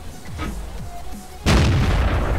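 A tank gun in World of Tanks fires once with a sudden loud boom that rolls on as a sustained rumble after quieter engine and track noise.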